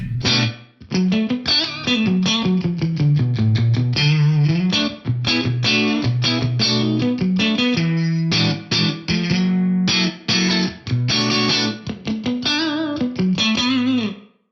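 Electric guitar played clean through a Kurzweil Rumour reverb pedal with the treble turned up for a brighter reverb, busy picked notes and chords ringing out loud and close with a trailing wash of reverb.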